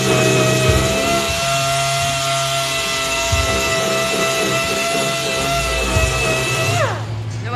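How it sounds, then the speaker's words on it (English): A power sander runs continuously on wood, a loud steady whine with a constant motor hum and slight rises as it is kept moving across the surface, then winds down at the end. "What I do is I keep my sander moving so that I don't have a groove in there where I was sanding"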